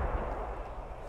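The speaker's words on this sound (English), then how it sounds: "Explosions are always good." Explosions in the military shooter game Squad rumble as a dense, continuous low-end roar that stays fairly steady and fills the short moment without any voices over it.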